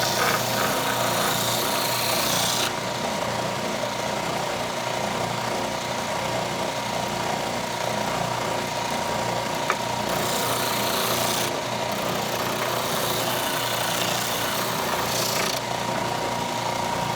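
A guitar body from a StewMac Mini T kit is being sanded, making a continuous loud buzzing grind with a few short breaks and shifts in tone, no voices.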